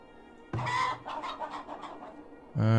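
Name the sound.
chickens clucking in the video game Farthest Frontier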